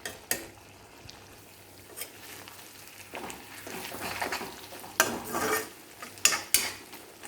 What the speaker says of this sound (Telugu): ఒక 5 నిమిషాల పాటు ఇలా తిప్పుకుంటూ వేయించుకుందాము.